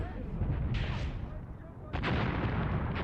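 Artillery barrage in Graviteam Tactics: Mius Front, a low continuous rumble of distant shelling with a couple of sharper bursts standing out, steady and heavy throughout.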